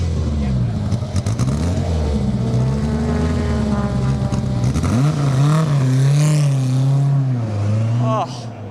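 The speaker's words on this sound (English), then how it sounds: "The engine just been fired up." A Lotus Elan race car engine runs and revs at Silverstone during a classic racing meeting, a loud, close drone with rising and falling pitch swings that fades slightly at the end.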